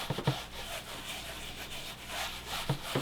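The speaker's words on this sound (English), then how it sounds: "use a lint-free cloth and just give it a good circular scrubbing." A lint-free cloth scrubs alcohol in circles over a horizontal painting surface, a soft steady rubbing with faint repeated strokes, close and quiet, no voices.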